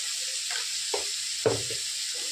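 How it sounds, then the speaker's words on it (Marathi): Onions and tomato sautéing in a pan make a faint, steady sizzle, broken by a few soft scrapes and knocks as they are stirred. "दोन मिनिटं परतून घेणार।"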